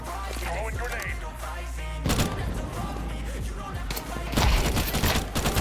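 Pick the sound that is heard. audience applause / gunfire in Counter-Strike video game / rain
gunfire in Counter-Strike video game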